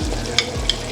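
Garlic sizzles in a carbon steel wok, a constant frying hiss broken by a few sharp scrapes and clinks of stirring, close and without voices.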